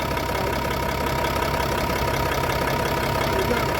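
A truck engine idles with a perforated exhaust pipe, a steady loud rumbling drone with a rough, slightly knocking texture that continues unchanged, no voices over it.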